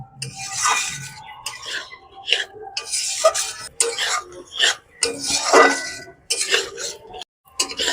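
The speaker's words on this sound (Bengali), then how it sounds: "এবারে মশলাটাকে ভালো করে কষিয়ে নেব।" Spice masala for a Bengali rohu fish curry with cauliflower and potato being fried and stirred in a pan, with salt and a little water added: repeated scraping and clattering of a spatula against the pan in bursts, close up, over a steady background sizzle.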